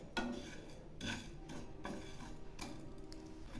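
Whole spices such as mustard seeds, cumin and fenugreek are stirred in a dry pan as they roast, giving a few light scraping and clinking strokes of the spoon at a quiet, close distance.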